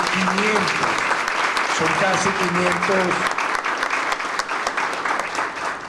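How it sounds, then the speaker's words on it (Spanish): A hall full of students claps loudly and steadily through a master class on ethics and human rights at a school. Dense, sustained applause fills the whole stretch, with a voice briefly audible beneath it at the start. "Eso merece un gran aplauso"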